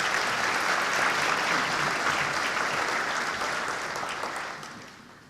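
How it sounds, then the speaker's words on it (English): At a veterans ceremony, an audience gives a veteran speaker a full round of applause. The clapping is steady and dense, then gradually fades toward the end. "Please give him a round of applause."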